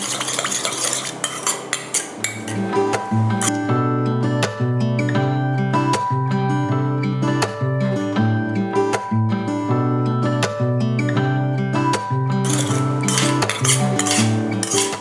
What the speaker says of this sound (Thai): นี่ก็คนส่วนผสมให้เข้ากันนะคะ